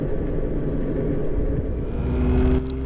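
Steady engine rumble of a motorcycle riding Going-to-the-Sun Road in Glacier National Park, a constant close drone with wind noise and no pauses.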